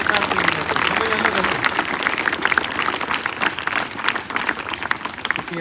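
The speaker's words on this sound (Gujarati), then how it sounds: "એમને જોરદાર તાળીઓથી આપણે વધાવી" A crowd claps loudly and continuously to welcome guests at a school Independence Day celebration in Gujarat. The dense applause fills the whole stretch, with a voice over a speaker system at the start.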